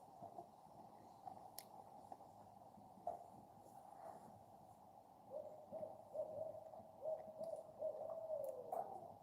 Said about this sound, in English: There is a really, really loud owl in the background.